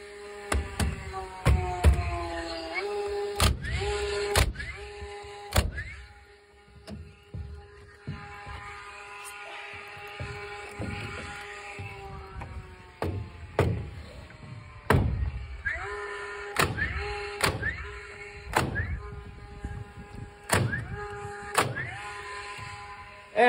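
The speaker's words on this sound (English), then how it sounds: "I'm going to shoot two toenails down into every truss now." A nail gun fires repeatedly while toenailing roof trusses, sharp loud bangs in irregular bursts, each with a ringing metallic tail and the hum of a compressor between shots.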